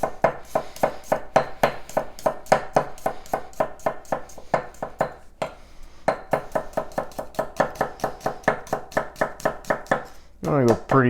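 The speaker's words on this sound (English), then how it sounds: "We're just gonna take this garlic, slice it up real thin" A knife thinly slices garlic cloves on a cutting board in quick, close, evenly spaced taps. Most of the taps land in a steady rhythm, with a brief pause midway and a voice near the end.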